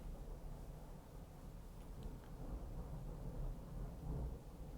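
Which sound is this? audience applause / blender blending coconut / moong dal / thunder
thunder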